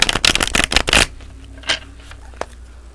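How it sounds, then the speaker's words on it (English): A deck of tarot cards is shuffled in a quick, loud burst of riffling snaps lasting about a second, followed by a few faint isolated card rustles and taps in a quiet room. "Give it one more quick shuffle here."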